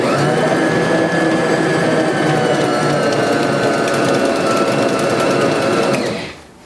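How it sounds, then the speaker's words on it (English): A NutriMill stand mixer with cookie paddles turns peanut butter sugar cookie dough as fresh-milled flour is worked in, giving a loud, steady motor whine and hum that runs continuously before winding down at the end. "And we'll give a few rotations to incorporate this flour."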